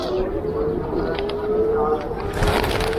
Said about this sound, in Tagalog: Ito na naman yung mga kalapate.